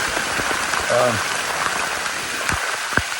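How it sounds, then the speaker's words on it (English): Rain shower falling outdoors during a public-land doe hunt in Missouri, a steady hiss of drops on surfaces with a brief low voice-like murmur partway through. "Well, we're getting a shower for the week."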